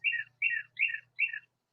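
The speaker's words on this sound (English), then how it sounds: "That bird really wants attention." A single bird outside a screen porch gives four quick, bright chirps in an even rhythm, close and clear against near silence, with a faint low hum underneath.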